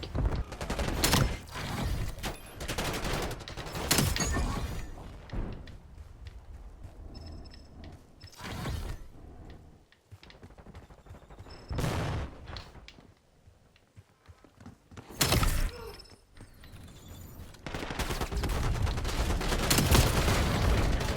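Gunfire in the video game Black Ops 7: bursts of rapid automatic shots and single cracks come in irregular volleys, loud and close, with quieter gaps between exchanges.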